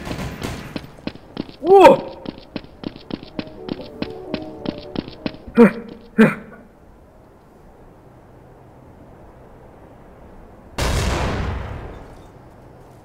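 Gunfire in Counter-Strike: Source: a rapid run of sharp shots through the first six seconds, with two louder bursts, then a loud blast near the end, while players shout over it.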